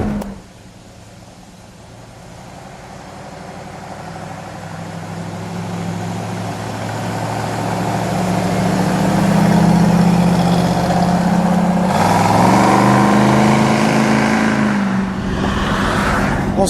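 A 1970 Dodge Challenger T/A with a 340 Six Pak V8 rumbles at idle, then builds into a louder, rising rev around the middle before settling back into a steady, close engine drone; no talking.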